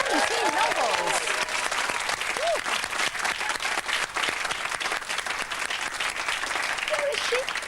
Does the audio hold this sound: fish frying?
no